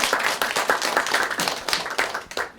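An audience at a labor union meeting on airport and aviation workers claps together for a few seconds, producing dense, irregular handclaps that carry steadily from start to finish with no talk.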